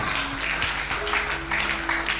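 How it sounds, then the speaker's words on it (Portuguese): A church congregation applauds during a sermon, a soft, muffled patter of clapping held fairly low under a steady hum in the room. "As vossas palmas estão baixas"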